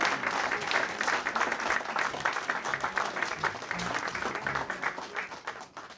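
Applause from a church congregation during a service, a crowd clapping steadily in a broad even roar, softening toward the end, with faint voices mixed in.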